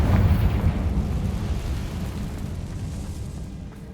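Confringo blasting spell detonating in Hogwarts Legacy: a loud, close explosive boom with heavy low-end rumble that decays gradually over a few seconds, with no talking.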